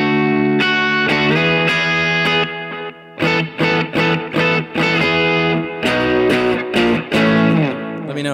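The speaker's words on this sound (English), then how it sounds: "Can you hear that guitar?" Distorted electric guitar with effects rings out in sustained chords, then choppy stabs and short gaps, loud and alone with no talking.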